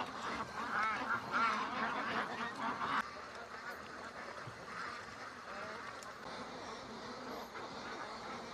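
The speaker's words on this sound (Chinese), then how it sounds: "鸭子喂完了啊！" Ducks quack in a noisy outdoor chorus, with a louder burst of calls early on that settles into steady, busy quacking.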